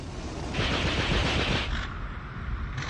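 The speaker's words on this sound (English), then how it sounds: "This is the French ace Albert Derlin, testing the synchronized Vickers machine gun that made the Nieuports better still." A synchronized Vickers machine gun fires on a French Nieuport fighter during First World War testing. The harsh, rapid bursts run close and loud through a noisy old recording, with a brief pause partway through.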